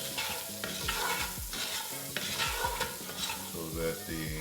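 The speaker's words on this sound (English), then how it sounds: "Give that a stir" Green beans and potatoes are stirred in a sizzling pan, with repeated scraping strokes over a steady frying hiss, close and clear, no speech.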